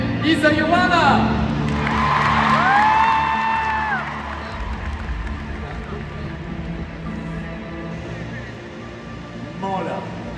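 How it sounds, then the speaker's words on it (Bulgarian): Audience at a grand finale show cheering and applauding, a broad crowd roar with whoops that fades to softer background clapping, with an announcer speaking over the start. "Аплодисменти и за Йоана!"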